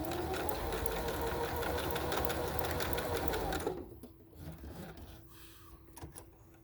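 A sewing machine with a drop-in bobbin runs a zigzag stitch, a loud, close, rapid mechanical whir for several seconds that stops abruptly, followed by faint handling clicks and rustles.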